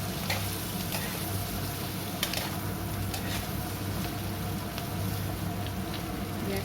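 Chopped capsicum with red and yellow bell peppers fries in a pan while being stirred, giving a steady, close sizzle with soft scraping strokes and a few brief clinks throughout.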